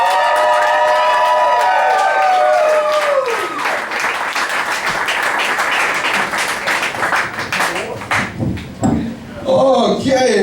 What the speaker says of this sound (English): I want you to give a tremendous round of applause